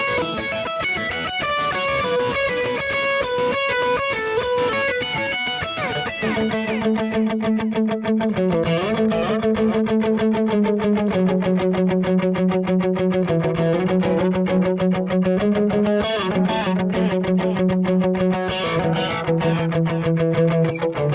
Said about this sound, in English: make it sound like this very bright, kind of vibrant, heavy overdrive